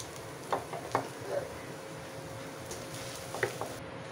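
Mashed boiled potatoes are mixed into a spiced chicken mixture in a pan, making a few soft scrapes and squishes over a faint background sizzle, with no voices.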